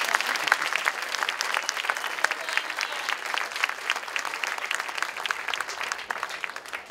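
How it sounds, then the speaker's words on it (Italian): Steady audience applause at a political party's national festival book presentation, dense crowd clapping with sharp individual claps standing out, continuous throughout. "Un applauso."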